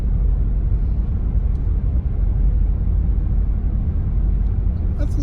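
A 2006 BMW 325xi with 68k miles drives on the road after repair, its engine and road rumble a steady low drone that fills the whole stretch, close and continuous, with no talk.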